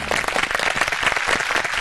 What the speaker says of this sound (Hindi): ऐसे ताली बजा के स्वागत हो रहा